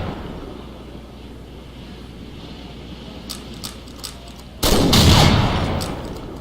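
Gunfire in the video game Combat Arms: a few isolated clicky shots, then a loud sudden burst of fire or explosion that fades over about two seconds.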